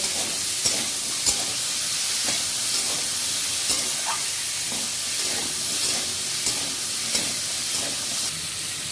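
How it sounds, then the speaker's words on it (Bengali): Jackfruit seeds and other ingredients for a Malabar spinach curry fry in a pan, a continuous loud hissing sizzle close up, punctuated by regular scraping stirs of a spatula. "সব উপকরণগুলো আমি ভালো করে ভেজে নেব"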